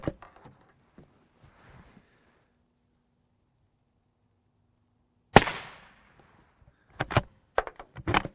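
Gunshots strike an alumina and polyethylene armor plate during outdoor durability testing: one loud, sharp report with a decaying tail, then a quiet gap and a quick cluster of several more sharp cracks near the end.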